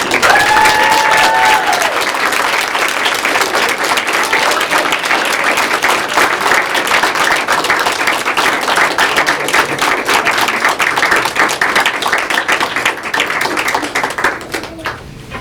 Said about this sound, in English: if everyone could just give a big round of applause